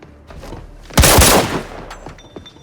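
A loud burst of rapid gunfire from a shooter game, Arena Breakout, erupts in a dense cluster lasting about half a second, then trails off into softer scattered shots and background game noise.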